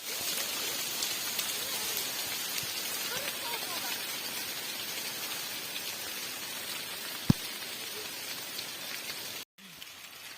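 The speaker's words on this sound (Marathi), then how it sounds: "आता तर साडे अकरा वाजलं आणि लगेच पाऊस आला" Rain falls steadily on a village on a rainy day, making a dense, even patter close by. A single sharp knock breaks through, and the sound cuts out briefly near the end.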